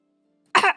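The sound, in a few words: person imitating a dog bark, cough-like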